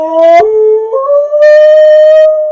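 Two dogs, a Husky-German Shepherd cross and a Rottweiler-Shepherd mix, howl loudly and close up at a reunion, with long sustained tonal howls that shift pitch and overlap, one briefly breaking off.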